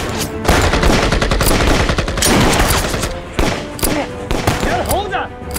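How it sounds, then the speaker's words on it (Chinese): Rapid rifle and machine-gun fire in a Sino-Japanese war film battle, with dense, loud bursts of shots crackling continuously near and far amid shouting and battlefield noise. "谁让你开枪了？"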